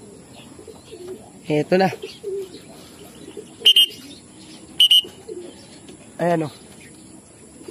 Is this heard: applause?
no